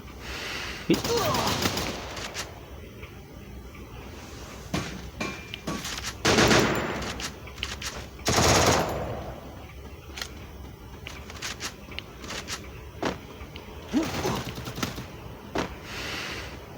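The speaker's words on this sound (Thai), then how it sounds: "โอเคตอนนี้เราก็ได้ปืน ทอมสันไปที่เรียบร้อยแล้วนะครับ" A Thompson submachine gun with a golden dragon skin fires in a first-person shooter game, loud bursts of rapid automatic fire broken by pauses, with someone talking in Thai between the volleys.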